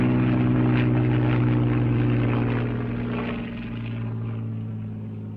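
A Hawker Hurricane fighter's piston engine drones loud and steady in flight, a thick continuous roar with a strong low hum that eases slightly toward the end.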